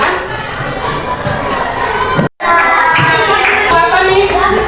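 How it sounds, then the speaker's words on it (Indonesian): A seventh-grade classroom at a junior high school in Ternate breaks into applause for the Sumatra group, a steady clatter of clapping and children's cheers with voices mixed through it and a brief cut partway. "beri aplaus dulu untuk kelompok Sumatera"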